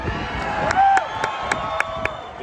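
A concert crowd cheers in a short burst with a shrill whistle and whoops, followed by rhythmic clapping.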